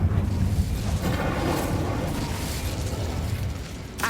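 An Incendio fire spell is cast in Hogwarts Legacy: a fairly faint, sustained roaring whoosh of flame with small bursts and pops, steady for several seconds before a brief crackle at the end.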